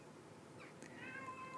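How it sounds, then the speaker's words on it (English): House cat crying nearby: a single short, faint meow with a rising-falling pitch, heard over quiet room noise with no talking. "Oh, now my cat's crying."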